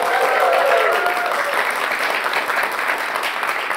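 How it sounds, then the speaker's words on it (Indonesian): Applause from a studio audience on a televised political talk show, a dense sustained wash of clapping that starts strong and tapers slightly while staying continuous to the end, with a faint tone early on. "Boleh tepuk tangan buat BHS teman-teman"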